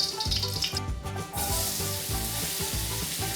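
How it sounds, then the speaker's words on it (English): Chopped onions fry in bacon-flavoured oil in a wok, giving a steady, close sizzle with some stirring scrapes and a brief dip before the hiss swells again; no one speaks. "Now add in the chopped onions and cook until softened."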